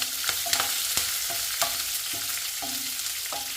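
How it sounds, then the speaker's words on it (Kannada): Dry chilies fry in hot oil in a pan, a steady close sizzle broken by repeated short scraping and clinking stirs at an uneven rhythm, with no talking. "ಇನ್ನು ಚೆನ್ನಾಗಿ ಫ್ರೈ ಮಾಡಬೇಕು."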